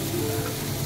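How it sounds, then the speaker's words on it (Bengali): Peas and egg noodle ingredients fry in a pan, giving a brief, even, close sizzle with no voices. "এখন সবগুলো আমি ভেজে নিব।"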